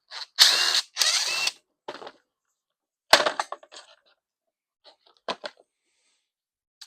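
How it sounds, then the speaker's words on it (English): A cover is pulled off a Briggs and Stratton engine on a Toro Recycler lawn mower: a few close bursts of plastic and metal rattling and scraping, then scattered light clicks and taps. "I'm gonna take the cover off first"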